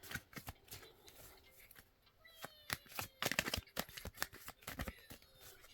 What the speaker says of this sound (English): I'm not the fastest shuffler.